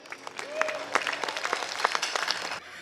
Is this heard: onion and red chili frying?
no